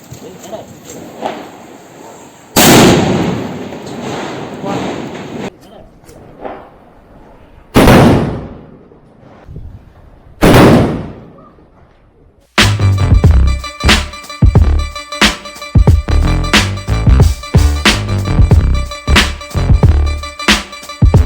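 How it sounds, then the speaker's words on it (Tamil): Large Nattu country firecrackers for Diwali go off in several booming blasts, each a sudden loud burst, followed by a long rapid crackling string of explosions outdoors, with voices in between. "பெரிய நாட்டு வெடி வைக்க போகிறோம்."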